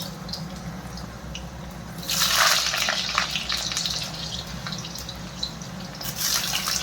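Potato pieces fry in hot oil in a home kitchen, a steady soft sizzle that swells louder around the middle as they settle in, with no one speaking.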